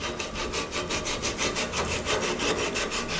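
Metal being sanded or filed by hand on a mini truck bed, a rapid run of rhythmic rasping strokes, close and fairly loud, with no voices.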